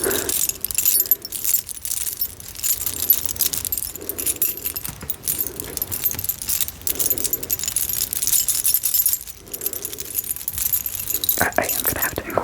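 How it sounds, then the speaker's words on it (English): A bunch of keys and metal trinkets jingle and clink close up in repeated shaking bursts, with soft rustling between; an ASMR-style setting and no talking. "I am gonna have to incorporate the jingling keys into a goofy video at some point"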